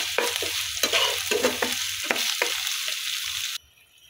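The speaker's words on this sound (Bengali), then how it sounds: "গরম মশলা, হালকা নেড়ে চেড়ে আমি এটা ভালো করে ভাজি করে নেব, এটা লাল লাল করে" Ginger paste and garam masala fry in a pan for chicken bhuna, a steady close sizzle broken by repeated scraping stirs of a spatula, no talk, ending abruptly into near quiet.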